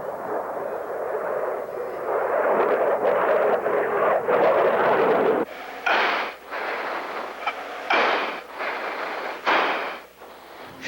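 An F-15 pilot grunts and strains against heavy G-forces while banking his jet at the 1992 Rose Festival Airshow, with loud, rough breathing bursts in uneven pulses over a constant roaring cockpit rush.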